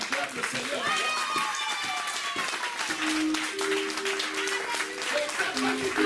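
A church congregation claps and cheers in praise of the Lord, a dense continuous wash of applause with a singing voice and steady sustained tones over the crowd.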